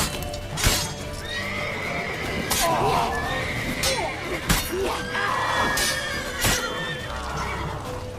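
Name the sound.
horse neighing in The Witcher 3 video game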